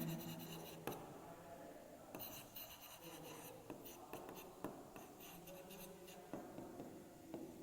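Chalk or marker scratching out a division answer on a classroom board, with irregular strokes and taps at close range and faint room noise beneath.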